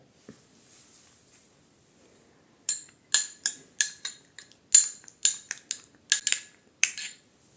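A spoon clinks repeatedly against a bowl while mixing a beetroot and curd facial pack, a quick series of bright, close taps after a quiet start.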